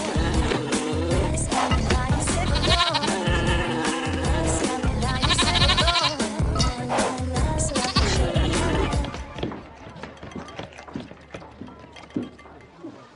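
A goat bleats several times on a farm, loud wavering cries rising over a busy background of mechanical clatter and vehicle noise, with the calls fading in the last few seconds.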